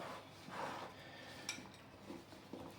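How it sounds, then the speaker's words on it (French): A utensil stirs chocolate chips into an apple and pear crumble mixture in a bowl, soft scraping and light clinks of metal against the dish, quiet and close. "Je mélange une première fois en mettant bien partout"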